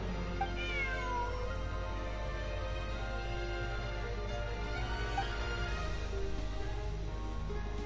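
Repeated plaintive meows from a cat in the video game Genshin Impact, heard over steady low background music, fairly soft and spaced across several seconds.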